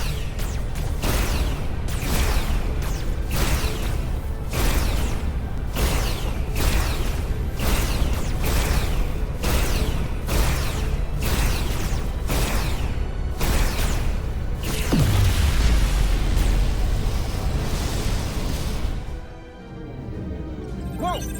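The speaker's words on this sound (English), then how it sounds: "Dilithium explosion." Repeated rhythmic blasts from dilithium crystals exploding in the Star Trek Resurgence video game, a steady series of loud bursts with swooshing tails, then one larger boom before the sound drops away.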